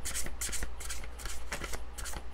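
Tarot cards shuffled by hand at close range, with quick bursts of riffling and flicking card noise recurring in a loose rhythm over a low background hum, no voices.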